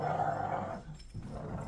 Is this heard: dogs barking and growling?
yes